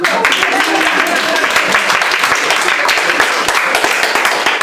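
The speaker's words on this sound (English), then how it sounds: "Well, come on, let's clap." Audience applause at an award presentation honoring an environmental champion: dense, steady clapping from a sizable crowd fills the whole stretch without pause, with a murmur of voices underneath.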